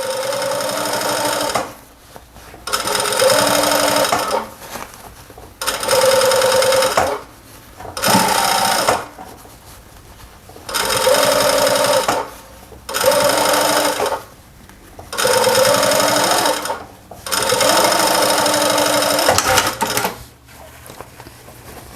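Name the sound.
sewing machine stitching seam of welding cap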